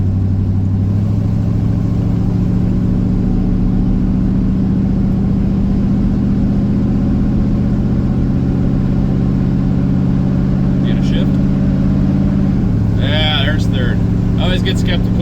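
A Buick 455 V8 car engine drones steadily and loud while the car drives on the road, its low hum holding even before a brief drop near the end, with a few faint higher chirps over it.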